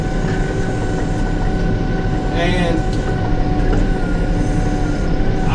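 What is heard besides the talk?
tractor engine running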